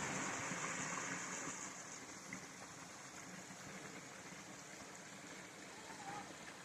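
Faint, steady rushing water from the top of a waterfall at Emerald Pools in Zion National Park, a broad continuous wash heard from close by with no talk.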